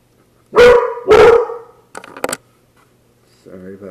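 A dog barks twice loudly, followed by a few shorter, quieter yips, then a brief stretch of speech at the end.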